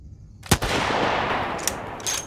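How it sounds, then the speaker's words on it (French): Gunshots in the zombie video game Undead City: one sharp, loud shot, then a rushing, noisy wash, with a couple of further quick cracks toward the end. "Le bruit des armes et l'audio est pas trop mal"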